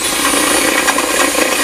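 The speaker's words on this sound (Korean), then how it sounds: "일곱 구멍 한번 뚫어볼게요" Diamond tile bit drilling a hole through tile, a loud, steady, close grinding whine that runs unbroken for the whole short stretch with no talking.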